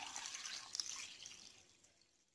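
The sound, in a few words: pouring water into pan of beef paya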